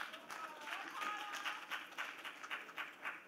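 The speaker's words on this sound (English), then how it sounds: "Round of applause for Paul Ann" A seminar audience claps in soft, rhythmic, fairly distant applause that swells and then settles into a steady beat.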